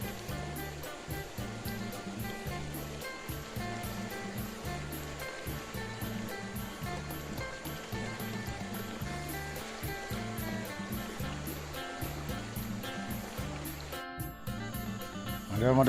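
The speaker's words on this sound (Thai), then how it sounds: "น้ำไหลเชี่ยวขนาด" Fast-flowing, muddy stream water rushing steadily in a rural forest and rice-field setting, a constant loud wash of sound that continues unbroken and without talking, briefly disturbed near the end by handling noise.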